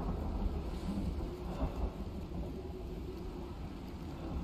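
Thunderstorm in the video game Icarus: a steady, dense roar of heavy rain with low rolling thunder rumbling throughout, one slightly stronger swell midway, no voices.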